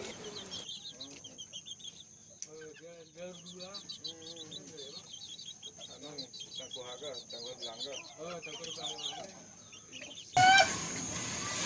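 A slow-type Ayam Ketawa laughing chicken crows in a long, rhythmic series of stuttering, chuckle-like calls, close and clear, before a sudden burst of broadband noise cuts in at the end.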